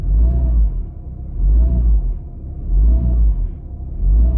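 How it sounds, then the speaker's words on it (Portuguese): A car with an automatic transmission revving while held on the brake, giving deep, loud engine rumbles in three slow swells that rise and fall. "vou estar pisado no freio, eu vou acelerar"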